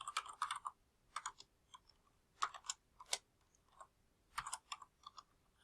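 Code is typed on a computer keyboard in quick, close clusters of soft key clicks separated by brief pauses, quiet and with no voices.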